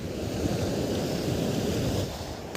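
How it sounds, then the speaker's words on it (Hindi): Floodwater after heavy rain rushes fast across a road, a continuous dense roar with wind buffeting the microphone and no voices. "यहाँ पर पानी काफ़ी तेज़ी से फ्लो रहा है रास्ते में"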